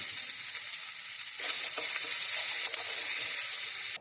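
Sliced onion sizzles in hot oil with bay leaf, cardamom, cinnamon and cloves for mutton curry, a steady close hiss that swells when stirred partway through and cuts off abruptly at the end.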